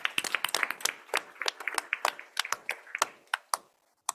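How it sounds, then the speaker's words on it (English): Scattered applause for Mr. Ray at a city school board meeting, a sparse set of separate hand claps from a small audience, thinning out and trailing off to a few last claps. "So let's give Mr. Ray again another round of applause"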